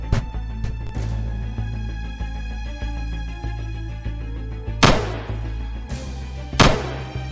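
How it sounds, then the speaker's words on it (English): Three sharp, loud bangs go off near the end, two close together, cutting through steady background music. "The sound of gunfire sent officers in the building scrambling."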